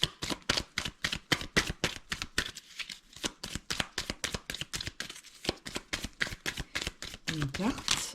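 Tarot cards being shuffled and drawn for a love reading, a fast run of crisp close riffling flicks in a steady rhythm that keeps going throughout, with a brief voice near the end.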